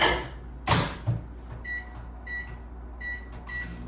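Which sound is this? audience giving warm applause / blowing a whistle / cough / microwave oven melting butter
microwave oven melting butter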